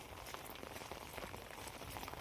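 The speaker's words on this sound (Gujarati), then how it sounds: "વરસાદ સવારથી એમ તો રાતથી ચાલુ છે ફૂલ." A quiet, steady rain falls in a village, making a continuous faint patter of drops on surfaces with no pauses.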